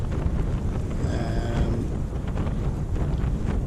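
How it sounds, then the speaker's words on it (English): Steady, rushing wind buffets a microphone at a wild camp on Hallin Fell in December, with a constant low rumble and roar, unbroken throughout and with no voices. "to be honest, it is windy"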